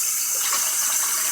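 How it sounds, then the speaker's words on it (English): Cold tap water runs steadily into a kitchen sink while potatoes are washed, a loud, continuous hissing splash with no voices. "This is how I wash my potatoes."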